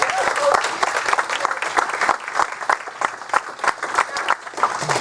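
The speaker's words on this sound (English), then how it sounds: "Round of applause" A township committee meeting audience gives a round of applause for a local undefeated youth sports team, dense steady clapping filling the room for several seconds with a few voices underneath.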